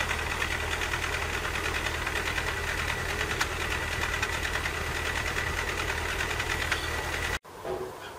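A 1996 Toyota Town Ace engine idles steadily with a busy mechanical rattle and a low hum, running on its own with no talk, then cuts off abruptly near the end, leaving a short quieter tail.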